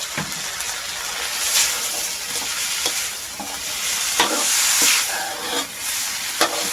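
Shrimp sizzling loudly in a hot pan while stir-frying basil spaghetti, a continuous close hiss and crackle broken by repeated scraping stirs, with no talk.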